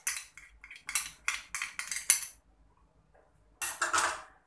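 Fish masala paste of red chilli powder and black pepper stirred in a bowl, heard as a close run of quick clinking scrapes of utensil against the dish, a pause, then another short burst.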